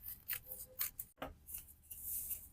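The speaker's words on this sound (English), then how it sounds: "So let me cut the neckline." Scissors cutting fabric along the neckline of a gypsy-style maternity dress, close and quiet, a series of crisp snips and soft rustles with a brief pause midway.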